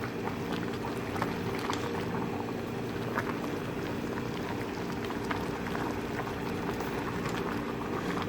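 Pot of collard greens simmering on top of smoked meat, a steady low bubbling boil with fine crackling pops, close and even throughout.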